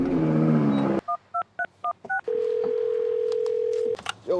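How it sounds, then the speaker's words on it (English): A telephone call dialed: a low droning tone cuts off, then six quick two-tone keypad beeps in an even rhythm, followed by a long steady tone, all loud and close. "all I need to do is make that phone call"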